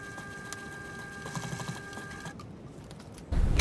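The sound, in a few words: sewing machine stitching a sling bag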